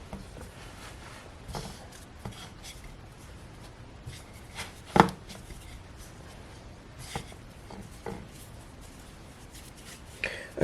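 Pie dough is kneaded with flour by hand, making soft rubbing, pressing and patting sounds with occasional thumps against the work surface, fairly quiet and close.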